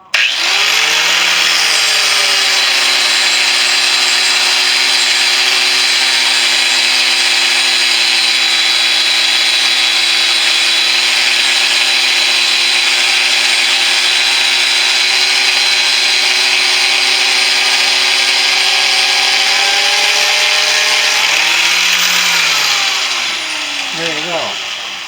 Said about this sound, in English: To eliminate the swirl marks, I just reverse direction and give it another buff.